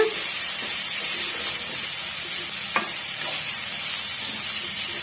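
Coconut and tamarind sautéing in a pan, steady sizzling and frying with occasional stirring clinks, a continuous hiss throughout.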